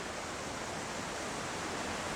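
The waterfalls of the Presque Isle River in Michigan pour in a constant broad rushing roar, steady and enveloping with no voices.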